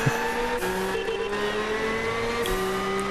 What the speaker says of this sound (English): There's a guy drifting